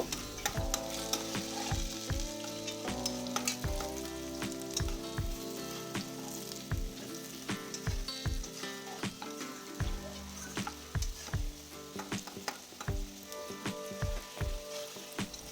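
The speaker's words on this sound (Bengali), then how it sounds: "5 মিনিট আলুগুলো হালকা লাল করে ভেজে নেব।" Peeled potatoes cut into long pieces fry in oil in a wok, a steady close sizzle broken by frequent sharp crackles and spits throughout, with no talking.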